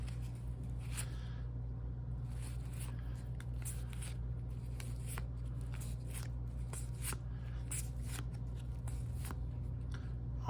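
A 1990 Pro Set football card pack being torn open and the cards handled, a close, quiet run of crinkling foil rips and papery shuffles over a low steady hum.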